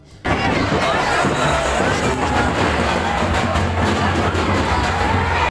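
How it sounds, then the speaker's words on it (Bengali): A dense crowd packs the Thakurnagar Matua fair, a loud, continuous wash of murmuring and shuffling that fills the space evenly from just after the start. "তারপরে ক্রাউডটা দেখুন গাইস, অসম্ভব ভিড় এখানে।"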